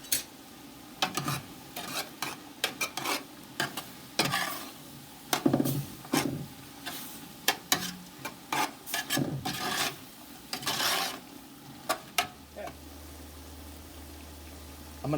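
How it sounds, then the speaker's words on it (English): Old Bay seasoning is stirred into a pot of hamburger minestrone, a spoon scraping and rasping in irregular bursts against the pot, close and fairly quiet, with a faint low hum coming in near the end. "And we're going to give it a good mix."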